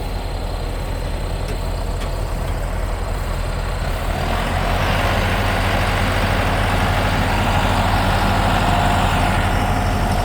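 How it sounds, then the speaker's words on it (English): A hay-field tractor runs steadily nearby as its mower swings out into cutting position, a low heavy engine drone that grows slightly fuller and louder partway through, with no voices over it. "Lisa's getting ready to swing the mower out to get it in the cut position"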